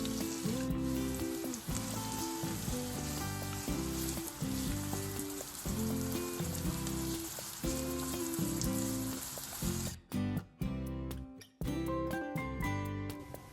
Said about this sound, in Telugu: నూనె కొంచెం వేడయ్యాక సన్నగా కట్ చేసి పెట్టుకున్న 2 ఉల్లిపాయ ముక్కలను వేసి 1 నిమిషం పాటు